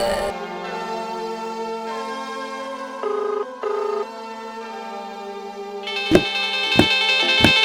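A telephone ring tone sounds through a cell phone while a call is being dialed, a steady repeating electronic tone with reverberant coloring, followed by a few sharp clicks near the end.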